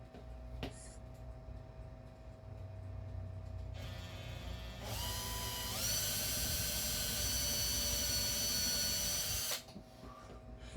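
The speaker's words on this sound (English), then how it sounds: "I drilled in deeper than I normally do, just for ease." A power drill bores into the post of a 1975 Hot Wheels Super Van die-cast car, a steady whine that rises in pitch and strain for several seconds before cutting off abruptly, loud and close with no talk.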